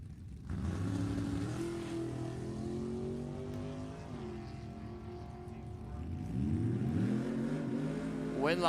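Drag race cars, a 2019 Tesla EV and an 1982 Camaro, launch at a Halloween drag race meet, a loud roaring engine holding steady and then rising into a harder rev near the end.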